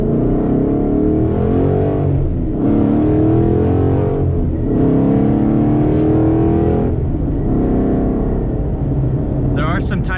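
A loud 2013 Mustang GT rips along a canyon road, its engine roaring through repeated rising revs and brief lifts between gears, close and dominant throughout, with a short clatter near the end.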